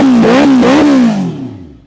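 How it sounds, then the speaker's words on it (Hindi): A 2016 Honda superbike engine revved loudly up close, a few quick throttle blips rising and falling before the note drops away and fades. "एक बार आप इस बाइक की आवाज़ भी सुन लो।"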